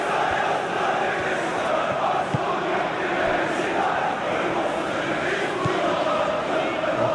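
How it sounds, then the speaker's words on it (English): A stadium crowd in a football video game, a dense continuous roar of cheering fans with a few faint thuds beneath, steady and loud throughout. "We have a hugely expectant crowd here."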